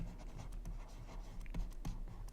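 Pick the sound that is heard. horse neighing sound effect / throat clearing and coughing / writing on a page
writing on a page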